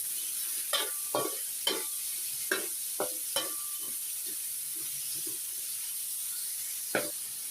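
Pork and garlic stir-frying in a pan give a constant quiet sizzle, punctuated by a series of sharp spatula clanks and scrapes at irregular intervals, close by and without talk.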